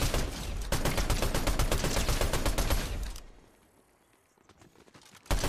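Assault rifle fire at bots in Fortnite, with loud, rapid shots in a dense fusillade for about three seconds, then quieter scattered sounds and a final sharp hit.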